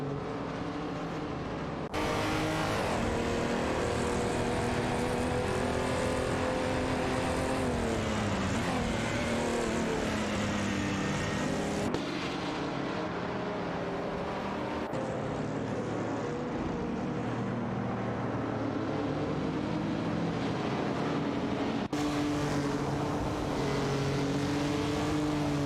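AI-driven race cars in a racing video game, including a Belvedere and a BMW M1, roar continuously with shifting engine pitch, with cuts between views and no talk over them.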